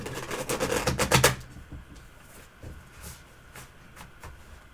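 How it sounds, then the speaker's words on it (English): Tarot cards are riffled in a quick, papery burst lasting just over a second, followed by a quiet stretch with a few soft taps and handling sounds. "So you shuffle first."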